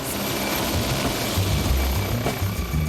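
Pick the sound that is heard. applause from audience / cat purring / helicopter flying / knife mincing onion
helicopter flying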